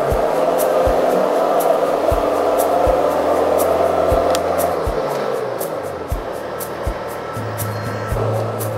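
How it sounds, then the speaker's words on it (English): Engine-powered JLG boom lift driving with a steady, loud mechanical drone, then the drive noise drops around the middle as the hydraulic motors lock and the machine halts abruptly, leaving the engine running with a shifted pitch. "You're gonna see the hydraulic motors lock up and the machine come to a really abrupt stop."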